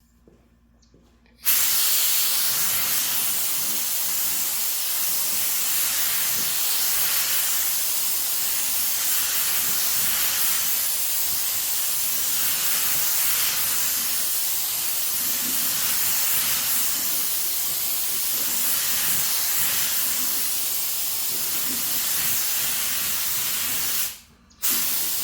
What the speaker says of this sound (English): I still have more on the gun, so I'm just gonna finish spraying it